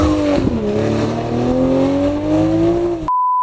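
A Toyota Supra on cheap Chinese tires slides sideways, its engine droning loud and steady with a sustained tire howl for about three seconds, then cutting off abruptly.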